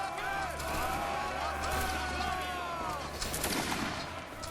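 Muskets volleying from a line of soldiers in a multiplayer Napoleonic Waterloo battle game, a dense ragged crackle of shots over a loud battlefield din, with voices shouting in the mix.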